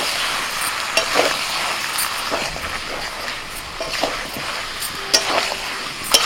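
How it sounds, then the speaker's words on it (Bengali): Papaya and potato curry cooking in a pan after the lid comes off, a dense sizzle and bubbling under repeated spatula scrapes and occasional sharp clinks, close and continuous with no talking. "এবার ঢাকা খুলে নাড়াচাড়া করে দেবো"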